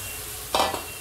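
Eggplant hits hot oil in a pan with a brief burst of sizzling and a scrape of stirring, set against steady kitchen background noise.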